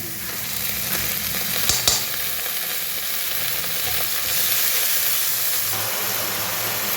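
Ginger and garlic paste sizzles steadily in a hot pan for a curry, a continuous close hiss with a brief clatter near the start and no talking.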